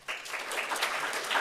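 An academic symposium audience breaks into a short burst of applause, a dense, even clatter of hands that rises quickly and holds steady for about a second.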